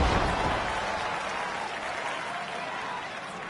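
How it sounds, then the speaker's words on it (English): Crowd applause in the WWE 2K25 wrestling video game, a steady wash of clapping and cheering that starts loudest and then settles to a constant moderate level, with no break. "Even the crowd atmosphere looks and sound flat"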